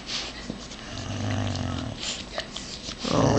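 A dog growls low and rumbling in a continuous stretch, fairly close, during a bath, with splashing and household noise around it and no speech.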